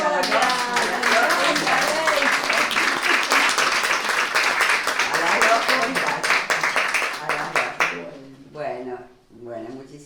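An audience at a Latin American and Caribbean science congress panel claps in a loud sustained round for about eight seconds, with voices talking over it and continuing after the clapping fades.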